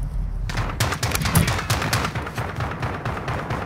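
Rapid automatic gunfire rattles in Call of Duty Modern Warfare during a Domination match, close and loud, in dense bursts of sharp cracks over a few seconds.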